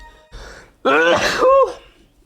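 A loud, close sneeze with a sharp inhaled buildup and a forceful burst, heard alone in a quiet room.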